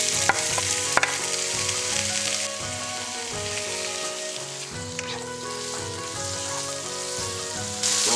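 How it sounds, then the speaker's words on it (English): Food frying in hot vegetable oil in a pot, a loud, dense and steady sizzle that continues throughout, with scattered stirring clatter and a faint musical tone underneath. "stir this around so it don't stuck to the bottom of the pot."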